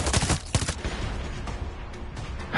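Player's gun firing in Far Cry 6, a rapid burst of loud, close shots at the start that trails off into echoing rumble and scattered fainter reports.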